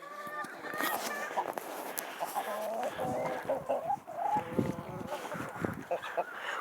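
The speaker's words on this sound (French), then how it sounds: "Voilà ma première poule, la poule nègre-soie." Silkie hen clucking on a farm, soft repeated clucks and low chattering calls scattered through the clip, fairly quiet and close, with talk over them.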